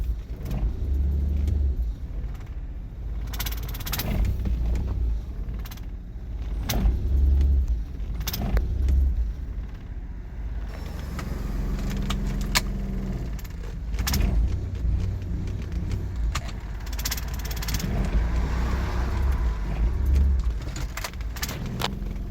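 A 2005 Nissan Quest minivan engine with melting ignition coils accelerates and revs repeatedly. Low engine surges rise and fall, mixed with clicks and light metallic rattles, close and moderately loud, with no talk.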